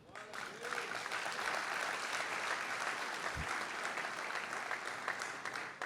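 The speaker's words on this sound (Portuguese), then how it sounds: "Se você crê, aplauda o Senhor" A church congregation applauds in sustained, fairly distant clapping that swells after a brief lead-in and holds steady for several seconds, with a low thump partway through.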